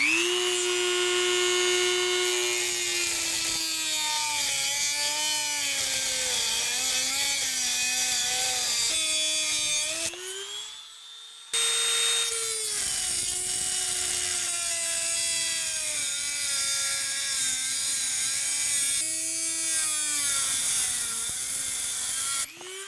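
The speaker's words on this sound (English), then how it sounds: "So now I just need to take my Dremel, take my metal cutting wheel, and cut off the top of each rod." Dremel rotary tool with a metal cutting wheel cutting threaded rods, a loud high whine that bogs down and recovers under load, pausing briefly midway before resuming.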